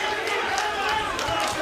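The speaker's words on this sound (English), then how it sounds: "you can hear the crowds really getting into it" A crowd of NASCAR and MMA fans roars and cheers steadily throughout a PFL Daytona welterweight MMA fight, a dense, continuous wash of noise with a commentator talking over it.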